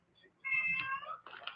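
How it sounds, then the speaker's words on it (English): An old cat meows in a drawn-out, moderately close cry, followed by a shorter second meow, quiet room background otherwise. "Well, it's my old cat."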